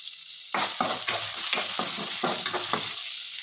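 Cumin seeds and green chilies hit hot oil in a pan with a sudden loud sizzle, followed by steady close frying hiss and several quick stirring scrapes.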